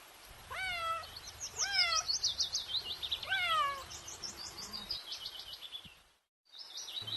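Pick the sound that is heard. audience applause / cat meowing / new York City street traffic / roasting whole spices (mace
cat meowing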